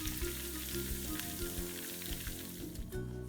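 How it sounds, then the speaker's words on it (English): Olive oil with rosemary and fennel seeds simmering over low heat, a soft continuous sizzle with gentle crackles and pops, close but quiet, with no voices. "Then gently warm it up over a low heat and let it simmer for 5 minutes to infuse the oil."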